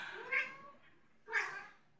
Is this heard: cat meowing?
yes